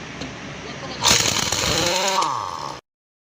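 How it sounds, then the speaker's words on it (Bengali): A power tool unscrews the wheel nuts on a tractor during a tyre repair, a loud, close, buzzing whir that revs up sharply, holds for under two seconds and then cuts off abruptly. "মেশিন দিয়ে নাটগুলো খুলছে"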